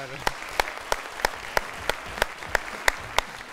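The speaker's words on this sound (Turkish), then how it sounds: "Son soruda Göksel Hanım'ı alkışlatır mı görelim" Studio audience on a Turkish TV quiz show giving regular rhythmic clapping, sharp evenly spaced claps about every third of a second under a steady crowd wash, fairly close and moderately loud.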